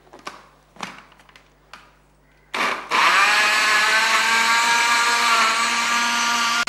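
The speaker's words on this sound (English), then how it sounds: "Sugar to taste, and just whiz it, okay?" A blender whirs loudly and steadily while blending a cucumber cooler drink with sugar, kicking in abruptly after a few soft knocks and running continuously close by.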